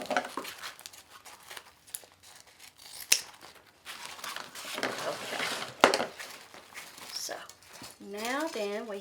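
Scissors snip through a ribbon tail while a bow is finished on a Pro Bow tool, with a few crisp cuts and crinkling ribbon handling nearby, and someone talks throughout.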